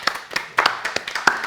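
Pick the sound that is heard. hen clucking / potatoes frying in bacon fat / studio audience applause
studio audience applause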